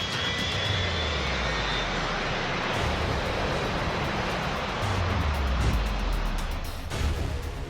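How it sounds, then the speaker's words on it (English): An airplane takes off with a loud, broad engine roar that holds steady throughout, dense rushing noise surging slightly toward the end. "We taxied away and lifted off."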